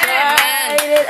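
A church congregation claps during a baptism service, a dense burst of applause right up close, with singing carrying on through it.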